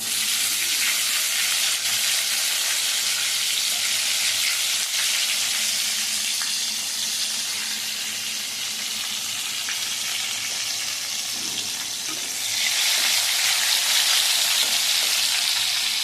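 Chopped tomato frying in a pan for khichuri gives a continuous, fairly loud sizzle and hiss that swells brighter near the end, with no voices.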